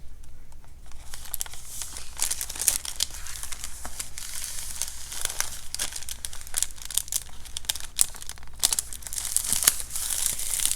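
Paper is crinkled and crumpled continuously while embellishments are being crafted, a dense, close rustling with frequent sharp crackles and no pauses.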